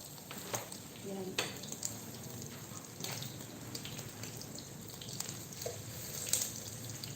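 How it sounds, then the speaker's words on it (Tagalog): Food fries in a home kitchen pan, a steady soft sizzle with occasional clinks and stirring scrapes of utensils and cookware throughout. "Habang naggagawa siya ng bola-bola, nagpiprito na tayo."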